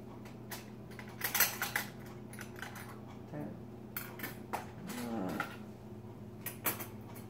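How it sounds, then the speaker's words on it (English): Metal spoons clinking and rattling as cutlery is lifted out of a container during a drawer clean, a series of sharp, close jangles and taps at irregular intervals, fairly quiet overall. "to get the cutlery out of the container, there's only two spoons"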